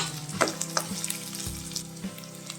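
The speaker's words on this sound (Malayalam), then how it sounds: "നന്നായിട്ട് വഴറ്റിയെടുക്കാം." Finely chopped ginger and garlic fry in a pan for prawn roast, a dense, continuous sizzle with occasional stirring knocks and scrapes, fairly close and with no talking.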